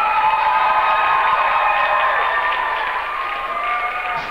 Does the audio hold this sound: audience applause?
yes